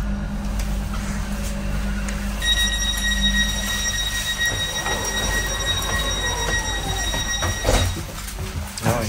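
An Estonian railway train rolls along the rails with a constant low rumble, steady high-pitched tonal whines and occasional wheel squeals, loud and close from inside the train.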